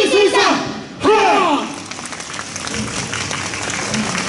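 Two short voiced shouts open, then broad, steady clapping from an audience spreads for the remaining seconds at a Hattori Hanzo ninja troupe show during a winter festival at Chubu Centrair International Airport.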